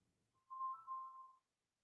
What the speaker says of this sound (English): Your phone on fire, ain't it?